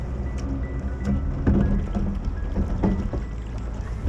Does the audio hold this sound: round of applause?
no